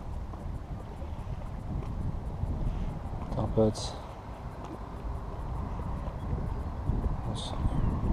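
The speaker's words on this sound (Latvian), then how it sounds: "Vējš ir stiprs" Strong wind roars and buffets steadily at close range while fishing outdoors, with a voice speaking briefly in Latvian over the rumble.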